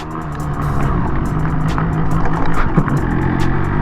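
Close, loud, continuous engine drone from a Yamaha RX-135 five-speed two-stroke motorcycle with a 20-year-old gearbox, riding steadily with slight rises in revs throughout.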